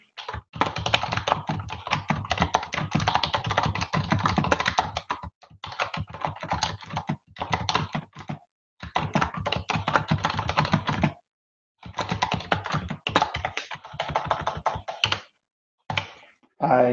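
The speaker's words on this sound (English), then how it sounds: "I can enter a description." Typing on a computer keyboard, with rapid close key clicks in several bursts separated by short pauses, fairly loud and without talk over it.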